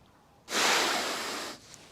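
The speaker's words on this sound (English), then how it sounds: "when you wiggle your nose like this, you can snort with your nose." A person snorts sharply through the nose once, a breathy hissing burst lasting about a second, close and clear with no talk.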